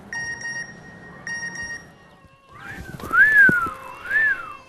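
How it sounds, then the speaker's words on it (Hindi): Someone whistles a sliding, rising-and-falling tune up close, after a series of steady electronic beeping tones. "बड़ी सीटियां पे जा रहा है."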